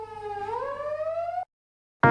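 A seized fake police car built from a Suzuki Jimny, fitted with a red light and siren, sounds a loud rising electronic wail that cuts off abruptly, followed by a short burst of sound after a brief silence.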